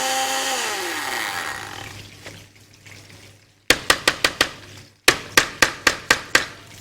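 An electric grinder processes the ingredients for bhagaray baigan: a loud whirring motor winds down and fades, then short bursts of rapid, sharp rattling pulses follow in two quick series, close and without talk.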